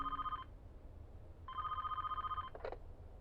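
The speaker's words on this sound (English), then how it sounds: "Then over the intercom, they heard the sound of the phone ring in the security room." A telephone in a security room rings in two long electronic trills separated by a pause, heard over an intercom with a short clunk after the second ring, clear against a quiet background.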